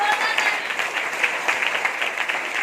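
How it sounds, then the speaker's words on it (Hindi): Steady, dense applause from an audience at a direct-selling event, loud and continuous throughout with no break. "मिस्टर टीवी सर के लिए एक बार जोरदार तालियां"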